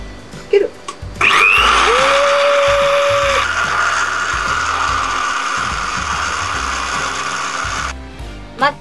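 A kitchen blender whirs loudly at close range for several seconds, blending basil for a Genovese sauce, its motor pitch settling as it spins, then cuts off abruptly.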